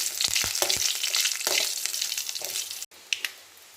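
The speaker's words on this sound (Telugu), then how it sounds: "నూనె కాగిన తర్వాత వడియాలు, జీలకర్ర, కరివేపాకు, ఉప్పు, మిరపకాయలు వేసి వేయించాలి." Vadiyalu, cumin, curry leaves and chillies fry in hot oil in a small pan, crackling and sizzling loudly with sharp pops, then cutting off abruptly before a few fainter stirring clinks.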